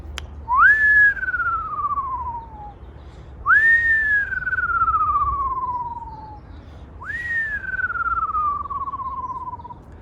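A whistled imitation of an owl call, three times: each note slides up briefly then glides steadily downward over about two seconds, with pauses between.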